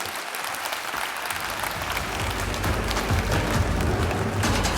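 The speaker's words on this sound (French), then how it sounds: "Philippe Pelletier et Laurent Géraud, venez sur scène sous vos applaudissements" An audience at a plenary session on the transition applauds continuously, a dense wash of clapping that holds steady and swells slightly toward the end.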